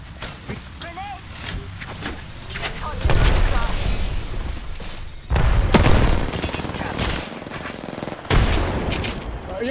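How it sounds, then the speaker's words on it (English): Bursts of gunfire in a shooter video game crackle in loud clustered volleys, with quieter stretches of distant shots between them and no talk over the firing. "You're in their sight, taking fire, friends."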